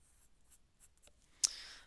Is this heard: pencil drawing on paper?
yes